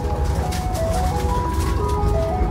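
An ice cream truck plays its tinkling jingle melody close by over a low rumbling vehicle engine, the tune steady and clear throughout.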